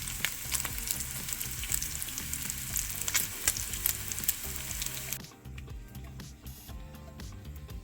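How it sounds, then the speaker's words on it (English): Onions and cabbage sauté in bacon drippings in a pan, giving a steady close sizzle and crackle with occasional stirring scrapes; the frying noise drops noticeably quieter about two-thirds of the way through. "We're gonna add our onions. Saute them around for a little bit, and then our cabbage."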